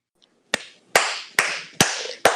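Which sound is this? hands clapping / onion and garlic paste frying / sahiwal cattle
hands clapping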